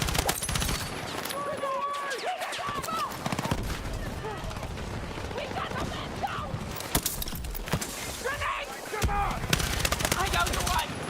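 Dense gunfire in the video game Battlefield 6: rapid automatic bursts and scattered shots mixed with game effects, steady and fairly loud throughout, with players talking over the action.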